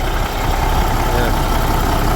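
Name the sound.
1991 Peterbilt 379 truck CAT 3406 diesel engine idling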